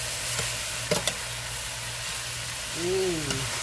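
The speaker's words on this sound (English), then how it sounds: "That's the last installation of cabbage. And go ahead and stir." Shredded cabbage sizzles steadily in a pan while being stirred, with a couple of sharp clinks from the utensil and a brief voice near the end.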